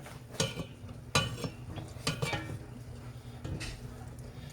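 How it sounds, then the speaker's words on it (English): Homemade mac and cheese is stirred in a pot with a utensil, producing a few scraping clinks and knocks in irregular bursts against a quiet kitchen background, close up with no talking. "The trick is just to keep stirring it."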